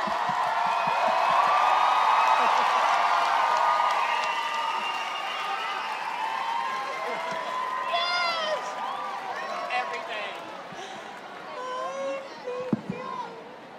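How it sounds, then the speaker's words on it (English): Concert crowd at a show at the iTunes Festival 2013 roars and applauds after the dancers are thanked, a loud sustained wash of cheering that thins out into scattered whoops and claps near the end. "we give you applause from us to the..."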